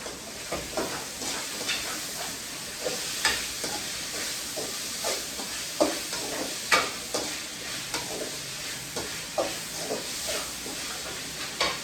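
Onions fry in a pan with a constant sizzle and hiss, broken by regular scraping stir strokes from a spoon or spatula.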